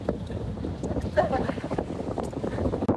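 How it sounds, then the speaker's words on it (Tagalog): Strong wind roars and buffets the microphone in a steady rush, with faint voices underneath. "napakalakas ng hangin sa balat"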